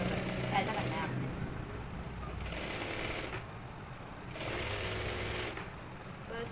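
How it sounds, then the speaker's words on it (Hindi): A sewing machine stitches the neckline of a garment in a steady rapid whir, running in bursts with short pauses roughly every second or two, with faint talking mixed in. "यहाँ से यूँ करके बूट की सिलाई पे आपने फिनिशिंग देनी है"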